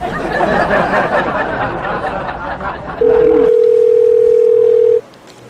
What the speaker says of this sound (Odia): ଜଟିଆ ଫୋନ କରିଥିଲା